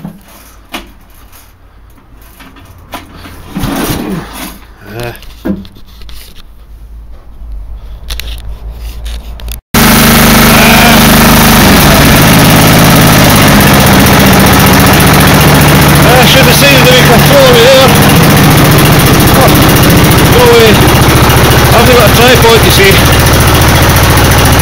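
A small engine is pulled with a recoil starter, then fires and runs steadily loud and near for the rest of the clip, with someone talking throughout.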